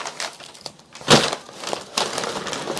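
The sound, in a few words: taping up a shipping package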